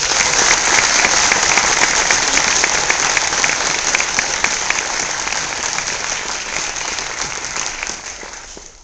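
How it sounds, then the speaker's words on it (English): An audience gives a loud round of applause after a morning talk by Ben Bernanke on the economy and the mortgage meltdown; thick, sustained clapping starts at full strength and slowly tapers off toward the end. "So another round of applause."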